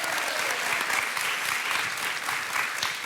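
A French television dating show's studio audience applauds steadily as a couple is welcomed on stage, a dense, continuous wash of clapping filling the room at full strength throughout.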